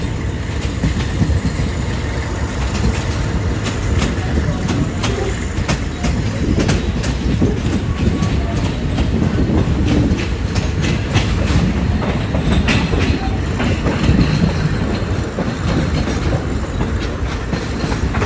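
Thai SRT local train 445 rolls along the rails out of Chumphon, a loud continuous rumble with steady clickety-clack wheel beats and occasional squeal, heard close from on board throughout.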